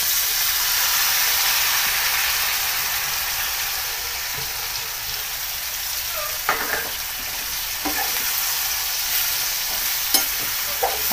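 Val bean pods fry in hot masala with a strong, continuous close sizzle that eases slightly over time, punctuated by a few sharp clicks from stirring, with no one talking.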